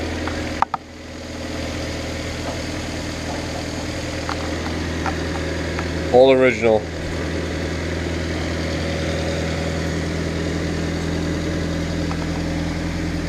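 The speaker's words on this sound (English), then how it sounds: "it's got that little Honda rumble because the muffler's all rusted out, but she idles perfect" A 1990 Honda Civic hatchback idles steadily with a low, even rumble through a rusted-out muffler, continuous and close, while someone says a couple of words and a brief warbling noise rises in the middle.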